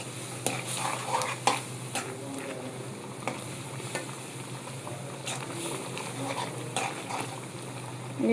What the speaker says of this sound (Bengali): এখন দিয়ে দেব পুঁই শাক।